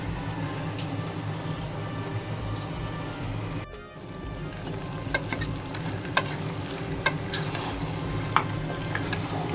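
Onion masala for Guntur gongura mutton sizzles in oil until the oil separates, with a steady frying hiss, a short dip and occasional sharp clicks of stirring in the pan.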